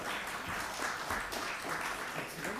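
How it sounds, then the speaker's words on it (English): Applause from an audience at a people management conclave as an industry HR head is called up on stage, dense steady clapping throughout without a break. "Can we give him a round cheer?"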